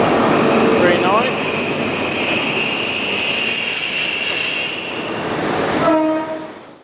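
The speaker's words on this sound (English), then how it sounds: "This is a Great Western Railway HST service to Swansea, calling at Bridgend, Port Albert Parkway, Neath and Swansea. We are now leaving Cardiff Central." Great Western Railway HST led by power car 43139 pulling out of Cardiff Central toward Swansea, heard as a loud, steady rumble of wheels and engine with a sustained high squeal of wheels on rails, easing off near the end.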